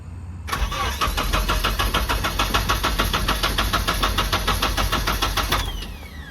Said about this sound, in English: It's cranking.